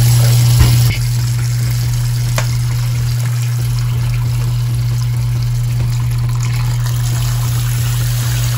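Water running steadily from a tap, a constant loud rushing stream with a strong low hum throughout and no talk.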